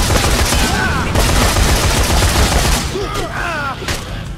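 Dense, continuous gunfire in the zombie game Dead Rising 3, loud and sustained with rapid shots blending into a roar, with brief voices beneath it.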